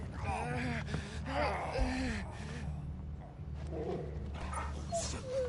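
A dog whimpers and yips in the Final Fantasy XVI video game, short whining cries and a gasp-like breath heard close over low game ambience and background music.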